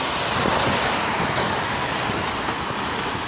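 A CN eastbound freight train passing close by on the Halton Subdivision in Burlington, Ontario, a loud, steady rumble with rhythmic clickety-clack of wheels over rail joints and no talk.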